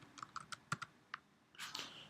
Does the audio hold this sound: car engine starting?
no